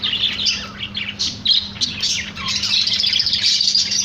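Small caged birds chirp busily as a mother bird feeds her two chicks, a near cluster of high rapid tweets and cheeps running continuously over a low hum.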